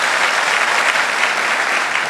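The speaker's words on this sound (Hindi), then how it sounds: "मैं चाहता हूं एक बार हम उनके लिए जोरदार ताली करें।" Audience applause at a Forever Living India success day event in Mumbai, a steady wash of many hands clapping at full volume that holds evenly for about two seconds with no voices over it.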